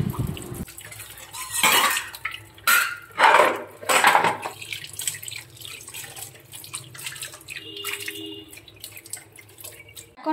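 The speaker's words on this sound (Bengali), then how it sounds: "তো এখন এই মাছগুলো একটু জল দিয়ে দেব" Water is poured over frozen fish in a basin, with several loud splashing pours up close, followed by quieter trickling and light clinks of dishes.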